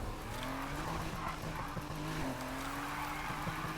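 A Volkswagen Beetle drifting in a racing video game, engine droning steadily while tires squeal and skid through continuous slides, with no voices.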